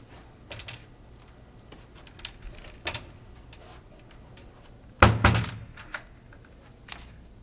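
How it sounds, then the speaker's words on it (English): Podium cabinet doors close and a drawer is locked with a turning knob, a series of light clicks and taps followed by a loud wooden thunk and rattle, then a few more soft clicks in a quiet classroom. "Close all of the Podium cabinets and lock the drawer by turning the knob to the left."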